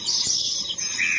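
Bright, high birds chirping briefly, a few quick tweets against a soft background, close by.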